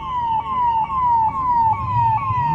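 An ambulance siren wails steadily during a pipeline oil leak mock drill, a loud repeating falling tone cycling about every half second, with a low vehicle rumble underneath.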